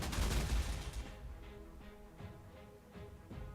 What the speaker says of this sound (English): I'll take the anti-aircraft fire here to strafe this AMC